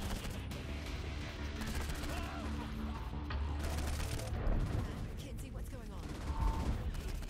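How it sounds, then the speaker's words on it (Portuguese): Rapid gunfire in a shooter video game, bursts of shots crackling continuously over game sounds and effects, with a couple of louder impacts later on. "Acho que tô levando um monte de tiro de bobeira aqui."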